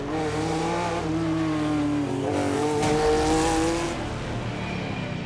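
A Shelby Cobra race car on a classic touring rally stage, its engine roaring loud and close with a rising, shifting pitch as it accelerates past.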